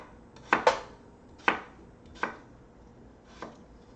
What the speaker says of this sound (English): I'm going to go ahead and cut the potatoes, drop them in for 20 minutes.